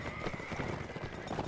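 Horses neighing with galloping hooves during a cavalry battle in Mount & Blade Warband, a steady busy clatter of hooves and whinnies mixed into dense game noise, moderately loud throughout.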